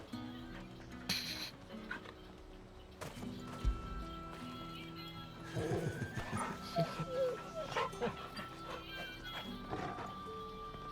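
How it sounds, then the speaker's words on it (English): A dog in Final Fantasy XVI gives short barks and yips that come and go, mixed with hoof clip-clops and game ambience. Spoken voices run through the scene. "A great hunting dog and a guard dog"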